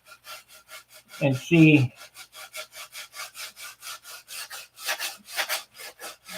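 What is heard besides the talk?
sanding wood with 80 grit sandpaper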